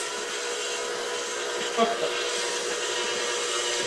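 An electric mixer whirs steadily through yellow cake batter with milk added, a constant loud motor drone with a brief knock partway through and faint talk beneath it.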